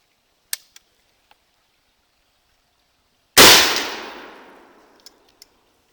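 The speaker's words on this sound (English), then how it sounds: "now I fired my first shot" A single loud, booming gunshot from an 1861 rifle musket, fired outdoors, with a long fading rumble afterward, preceded and followed by a few faint metallic clicks.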